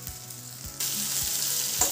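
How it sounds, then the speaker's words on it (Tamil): Tomato and onion sizzle steadily in a pan for an instant sambar, the frying growing brighter partway through, with a few soft low knocks of a stirring spoon. "நல்லா வதங்கிடுது பாருங்க தக்காளி, வெங்காயம்"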